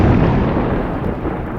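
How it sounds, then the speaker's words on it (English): Thunder used as a sound effect in a narrated story about a cyclist, a deep, loud, continuous rumble that stays at full strength from start to finish, with no voice. "he heard thunder"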